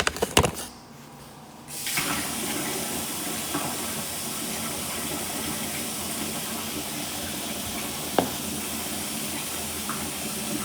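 A kitchen tap runs for rinsing, a steady hissing stream of water that starts after a brief clatter and quiet gap, continuing evenly with a small knock partway through.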